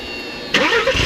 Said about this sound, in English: So with the car started up